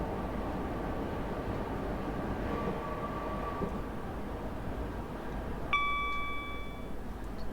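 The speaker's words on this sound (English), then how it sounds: "So yeah, the 456s don't really have very good acceleration" Class 456 electric multiple unit accelerating in the Train Sim 2020 game on the London Waterloo to Hampton Court route: a steady, dense rolling rumble, joined near the end by a sudden bright tonal whine that holds for about a second.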